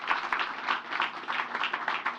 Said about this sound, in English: You all deserve a round of applause.